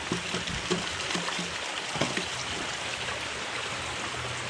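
Water and mud churn and swirl through a cleanup sluice fed by a 2,000 gallon pump during rainy dry washing, a steady broadband rushing wash with faint recurring knocks, close and continuous throughout.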